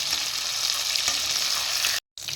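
Chicken pieces frying in hot oil in a home kitchen, a loud, continuous crackling sizzle with a brief cutout near the end before the sizzling resumes.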